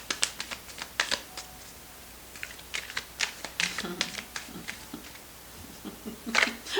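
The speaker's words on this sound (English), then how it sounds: "Wow, that was a weird shuffle." A deck of tarot cards is shuffled in a string of soft, rapid riffling clicks and flutters, close and fairly quiet, with some speech mixed in.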